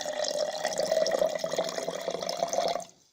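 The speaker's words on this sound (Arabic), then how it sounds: "والآن بعد أن قمنا بوضع ملعقتين من الأرز سوف نضيف كوب صغير من الماء" A small cup of water pours steadily onto rice grains in a bottle, a close, continuous trickling splash that stops abruptly near the end.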